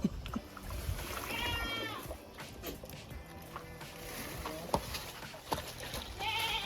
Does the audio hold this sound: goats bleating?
yes